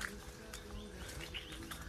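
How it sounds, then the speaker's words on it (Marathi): Birds chirp and call beside sugarcane fields with a river nearby, a steady scatter of short, bright tweets over a continuous low outdoor rumble. "आणि मस्त पक्ष्यांचा आवाज येतोय"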